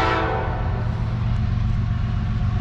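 A CSX freight train, M404 on track one in New Jersey, rumbles steadily past up close. The faint tail of a horn fades out in the first moments.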